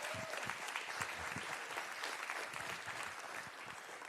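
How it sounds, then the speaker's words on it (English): Audience applause at a startup demo day awards ceremony, steady dense clapping from a sizable crowd held at an even level throughout, fairly distant and without voices. "can we all just give a round of applause?"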